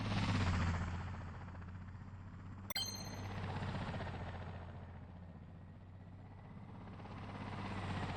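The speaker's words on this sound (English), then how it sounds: "listen to the helicopter on autopilot" In the video game Nintendo Switch 2 Welcome Tour, a helicopter drones on autopilot with a steady whirring rotor hum, broken once by a sharp metallic ding, with no talk.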